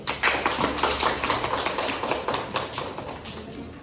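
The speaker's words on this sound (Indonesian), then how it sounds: "Yang beri aplaus pada Sarati" A classroom of students claps in a quick burst of applause for a classmate, dense patter of hands close by and fading slightly toward the end, no talk over it.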